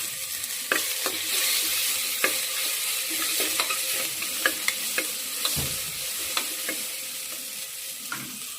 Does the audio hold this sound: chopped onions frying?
yes